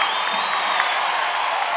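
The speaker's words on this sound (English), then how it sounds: "Crowd coming alive at Gainbridge Fieldhouse." Basketball crowd at Gainbridge Fieldhouse during an Indiana Fever versus Atlanta Dream WNBA game, a dense, steady roar of cheering fans with a thin whistle rising through it.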